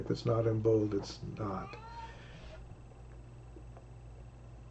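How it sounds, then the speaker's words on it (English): A domestic cat cries with loud, drawn-out meows at the start, overlapping a person speaking indoors, then the room settles into quiet hum. "I don't know if you can hear the cat crying,"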